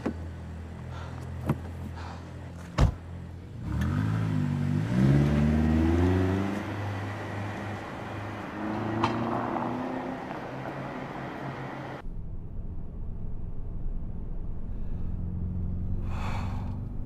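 A car drives in the video game Late Shift, its engine revving up with rising pitch, then settling into a steady hum, with a few thumps and a short gasp-like sound nearby.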